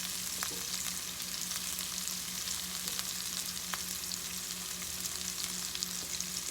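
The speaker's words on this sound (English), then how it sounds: "I'm going to stir them around just a little bit" Chopped green onions fry in a pan for lemon garlic pasta with chicken and spinach, giving a steady close sizzle with faint stirring scrapes and small ticks throughout, no talking.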